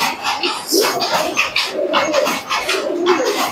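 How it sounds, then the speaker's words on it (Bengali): Pakistani pigeons coo close by, with several soft, throaty calls overlapping in a steady run over light background noise. "সব কবুতরগুলো দেখেই বুঝতে পারছেন। এক খালি পাকিস্তানি কবুতর আর পাকিস্তানি কবুতর"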